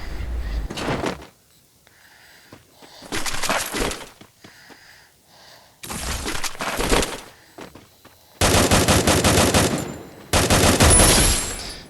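Gunfire in the battle-royale game Free Fire, loud bursts of rapid shots in several clusters with short quiet gaps between them, the last bursts the densest and most sustained.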